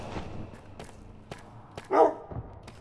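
A dog in the video game Alien Gigeresque gives several short, sharp barks spread across the moment, fairly faint, with one louder yelp among scattered clicks.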